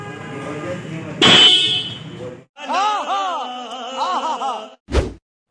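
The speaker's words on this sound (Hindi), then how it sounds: "यहाँ पर आपको जो है ड्यूअल हॉर्न मिल जाती है, साउंड कुछ ऐसा आपको मिल जाता है।" Loud dual-tone horn of a Yamaha R15 V4 motorcycle honks twice, a long blast then a shorter one, following brief talk and ending with a sharp thump.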